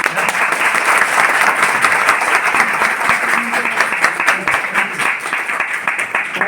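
A crowd at an indoor group business gathering bursts into sustained applause, many hands clapping densely and evenly for several seconds, loud and close with no pause.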